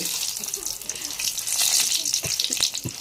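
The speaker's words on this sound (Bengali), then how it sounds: "পাঁপড় অলরেডি দিয়ে দেওয়া হয়েছে তেলের মধ্যে এরপর এটাকে খুন্তি দিয়ে নাড়াচাড়া করা হচ্ছে" Papad sizzles in hot oil while a metal spatula stirs it, a bright continuous frying hiss broken by a few soft scrapes and knocks, close and moderately loud.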